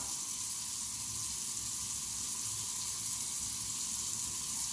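Water runs steadily from a kitchen tap into a sink, a constant close hiss with no breaks and no voices.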